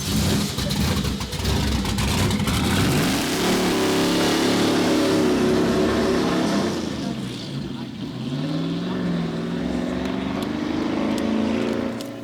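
An LS V8 swapped into an all-wheel-drive Audi Quattro with four turbochargers revs loudly and rises in pitch in long sweeping pulls, with people talking over the sustained engine roar.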